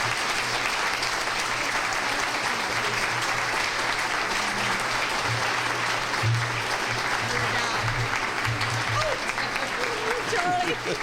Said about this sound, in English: One more big applause for our departing mayor of Music City, USA, Bill Purcell.